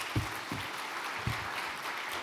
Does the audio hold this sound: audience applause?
yes